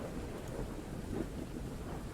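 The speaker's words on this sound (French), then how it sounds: "il pleut, hein, on est en orage" Low rolling thunder with steady rain and wind, a stormy ambience played behind a tabletop role-playing game session, a continuous dense rumble with no clear individual claps.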